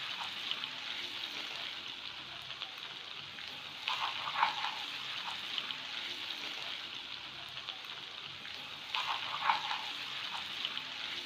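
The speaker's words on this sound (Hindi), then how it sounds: "Soya sauce chilli sauce add करने के बाद थोड़ा सा हम इसे पका लेंगे।" Chicken vegetable fried rice with soy and chili sauce sizzling steadily in a pan over a medium flame, a constant soft frying hiss with occasional louder stirring scrapes, fairly quiet and without talk.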